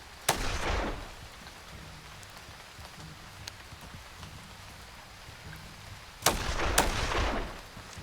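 Shotgun blasts in the video game This Land is my Land, two sharp loud reports with crackling tails, one near the start and a pair close together later, separated by quiet ambient stretches.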